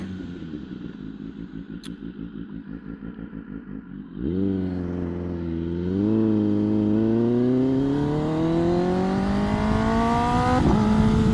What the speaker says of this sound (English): That exhaust note is just